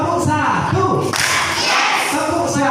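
Children in a Quran study class clap once in unison, a crisp collective burst near the middle, surrounded by lively kids' voices shouting and chanting.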